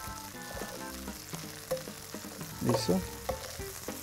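Mushrooms fry in a pan with a steady sizzle, broken by soft stirring scrapes and a louder burst near the end, and someone speaks one brief word over it.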